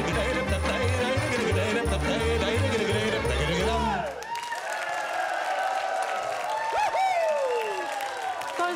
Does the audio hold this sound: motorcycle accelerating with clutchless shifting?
no